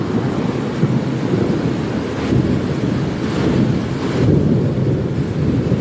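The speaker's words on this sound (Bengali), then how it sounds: "এত পরিমাণে বৃষ্টি ঝরতেছে" Heavy rain pours down in a storm with a dense, roaring wash of noise and low rumbles of thunder, loud and continuous throughout, with no voices.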